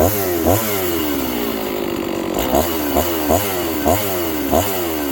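A John Deere CS 81 chainsaw runs up close with a steady idle, broken by about seven sharp throttle blips in an uneven rhythm, each revving up and dropping back, with no talk over it.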